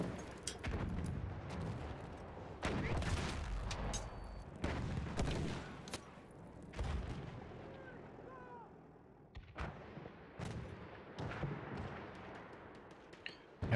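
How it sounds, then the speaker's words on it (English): Mortar support fire in a 5v5 team shooter game, heavy booming impacts arriving in clusters with scattered gunfire between them, fairly loud. "We have the mortar support here pushing Cherokee out"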